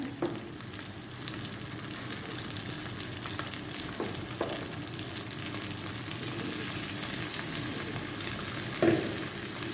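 Chicken drumsticks frying in oil in a pan over medium flame, a steady, moderately quiet sizzle with occasional soft clinks and stirs, heard up close without talk.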